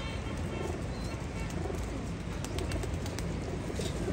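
Teddy pigeons coo softly over a dense, noisy background of steady hiss and rustle, with repeated low calls heard throughout.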